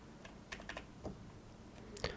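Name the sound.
typing on a computer keyboard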